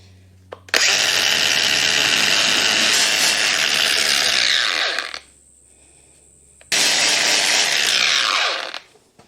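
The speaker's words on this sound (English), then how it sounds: "I had a strip disc on the grinder already, so I'm just going to use that instead of a wire wheel" An angle grinder fitted with a strip disc cleans rust off the cab mounting holes of an HZ one-tonner truck. It runs as two long, loud, close bursts of whining, grinding abrasion, each winding down, with a quiet gap between them.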